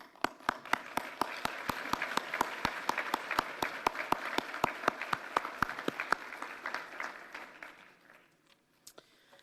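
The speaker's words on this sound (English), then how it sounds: "let's give them a round of applause" Applause from the audience at the American Red Cross Heroes Breakfast honouring past Honor Hero Award winners, steady mid-distance clapping with a few sharp close claps standing out, fading away near the end.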